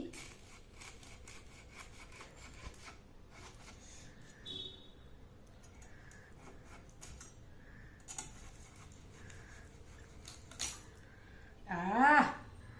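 A knife cuts through the head of a large hilsa fish with quiet, intermittent sawing and rubbing scrapes and a few faint ticks. A brief louder squeak comes near the end.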